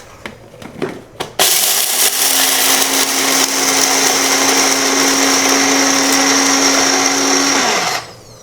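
A mixer grinder whirs loudly and continuously for several seconds as it grinds white pepper for a crab fry, after a few clicks and knocks as it is set up, then winds down.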